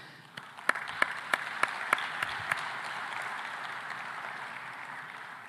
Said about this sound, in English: A warm round of applause for everyone and the leaders that we currently have that are pushing.